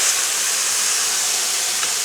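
Marinated tofu sizzles in a hot pan, a loud, close, steady hiss of frying that carries on without a break, with no talking over it.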